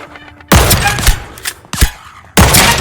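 King of Diamonds in Deceive Inc. fires four loud, heavy single shots, each a sharp boom with a short decaying tail, spaced irregularly with quiet gaps between them.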